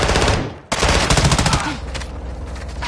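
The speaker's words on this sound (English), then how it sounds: "Wally's shooting at something." Automatic gunfire from a video game shootout, dense and loud, pouring out in rapid bursts with a brief break before resuming, continuing at full intensity close up.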